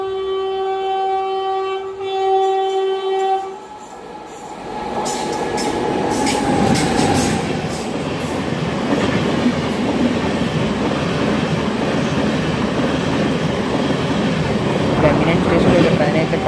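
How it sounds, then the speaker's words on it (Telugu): MEMU passenger train crossing at Gangineni station on the Vijayawada to Bhadrachalam Road line: a sustained horn tone, then a loud, steady rumbling roar with rhythmic wheel clatter as it passes close by. "గంగినేని స్టేషన్లో ట్రైన్ అయితే క్రాస్ ఓవర్ అవుతుంది."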